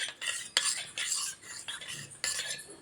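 A spoon stirs and scrapes through a cornflour and milk mixture to break up lumps, giving a series of quick, close, quiet scraping strokes in an uneven rhythm.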